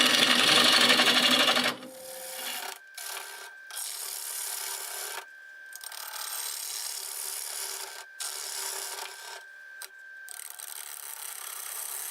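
A rough, rasping scrape of a tool hollowing a cracked cherry wood blank spinning on a lathe at about 750 RPM, interrupted by brief pauses, with a faint steady whine running underneath.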